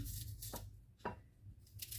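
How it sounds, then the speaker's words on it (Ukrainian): Onion is chopped with a knife on a board for frying, a few sharp distinct cuts spaced roughly half a second apart, close and quiet, with no talking. "А зараз поки нарізаємо цибульку на засмажку"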